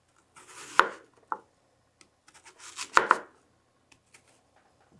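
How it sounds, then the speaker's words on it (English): A knife makes small chopping strokes into an onion on a cutting board, falling in two short clusters of sharp, close taps with pauses between and no talk. "And you just want to make little chops, but you're not going to go all the way through the onion"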